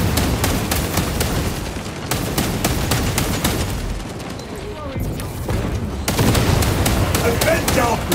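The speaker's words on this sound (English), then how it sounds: "Launching frag grenade!" Heavy combat din in Warhammer 40,000: Space Marine 2 around a thrown frag grenade, with dense continuous gunfire and booming bursts filling the whole stretch, loud and close, voices shouting over it.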